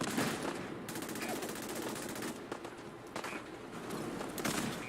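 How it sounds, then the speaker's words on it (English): Cannons fire in the video game Fallout 4 as rapid, dense bursts of booming shots in quick succession. The blasts keep up almost without pause, with faint voices mixed in. "I'm really into firing these cannons."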